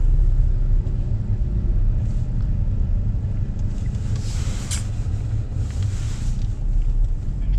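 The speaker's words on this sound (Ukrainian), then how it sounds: "Ось такі затори в нас на фонтані." Rush-hour traffic jam in Odesa heard from inside a taxi: a steady low rumble of idling engines and road noise with faint wind, constant and close, with no talk.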